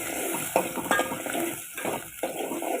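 Finely chopped onion frying in oil in a pan for a spicy chicken dish, a steady close sizzle with occasional stirring scrapes and utensil clinks, no talking.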